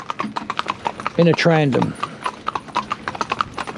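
Horses driven in a trandem clip-clop in a steady, close, brisk rhythm of hoof strikes. A voice talks over the hoofbeats for a moment.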